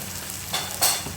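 Nigella seeds (kalonji) sizzling in hot oil for a mango curry, a steady low fry hiss with two brighter surges of crackle partway through, close and alone without speech.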